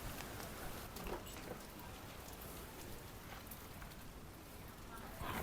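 Steady rain falls in the mountains around Manali during the 2025 floods, a continuous hiss and patter close by, with faint talk now and then beneath the downpour.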